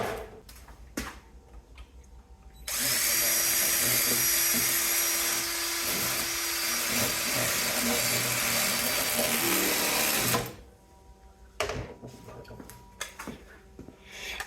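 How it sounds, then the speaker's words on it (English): A power drill bores into the coil windings of a scrapped heater, a loud steady whine lasting several seconds between quieter handling clatter and knocks before and after. "I'm gonna put a drill in there and see if those windings are copper or aluminum."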